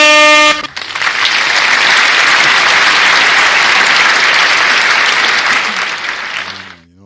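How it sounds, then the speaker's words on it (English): Sustained applause sweeps in after a brief tonal blip, holding as a loud, dense clatter for several seconds before fading out at the end, with no talking over it. "We got to give ourselves an applause."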